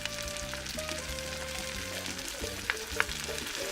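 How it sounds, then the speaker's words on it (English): Lima beans fry in a pan with a steady, even sizzle for a few seconds, plus a couple of faint clinks near the end and no voices. "So we're going to add our lima beans and let them cook just a little bit ahead of the corn."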